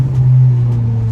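Audi's exhaust drones steadily, close and loud, with a strong low engine tone while driving a mountain touge road lined with trees and hills.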